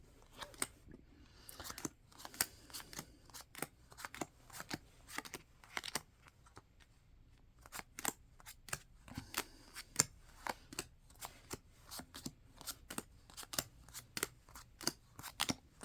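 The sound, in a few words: shuffling tarot cards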